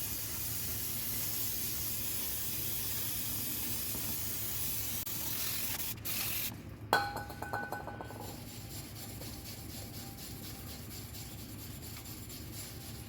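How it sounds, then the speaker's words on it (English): Brake cleaner sprayed from an aerosol can onto the front brakes of a 2000 Audi A4 B5, a steady close hiss that cuts off partway through, followed by faint clinks and rubbing. "So get some brake cleaner on here. Spray that on here."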